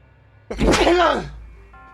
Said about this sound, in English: I may sneeze soon.